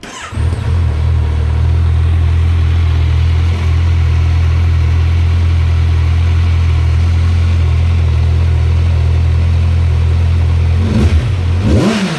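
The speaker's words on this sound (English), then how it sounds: "Stock 2017 Ninja 1000 exhaust." A 2017 Kawasaki Ninja 1000 motorcycle with stock exhaust idles steadily with a deep, loud exhaust burble throughout, then revs briefly near the end.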